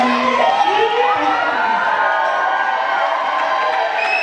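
Party guests cheer and shout right after a toast, a loud, sustained burst of overlapping voices with whoops and some clapping, close by.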